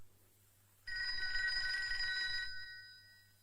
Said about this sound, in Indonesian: Telepon bakal lo nih